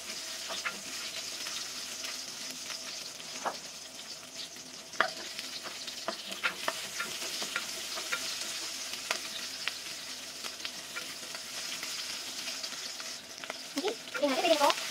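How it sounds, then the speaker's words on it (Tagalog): Onions sauté in hot cooking oil for a Filipino tomato soup, sizzling steadily and faintly throughout while a spoon scrapes and clinks against the pan at irregular intervals, with louder stirring near the end. "Pag mainit na yung mantika, lagay lang ang sibuyas."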